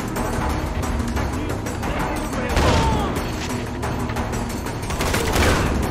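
Grenade blast and bursts of gunfire in the video game Far Cry 4, a dense, continuous barrage with booming peaks, loud and close throughout.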